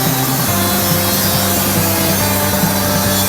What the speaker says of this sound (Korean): 징크 쪽 알판을 자르고 있고